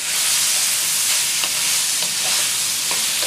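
Frozen edamame beans stirred into a hot pan, giving a loud bright sizzle with a few scraping stir strokes, close and continuous, no voices.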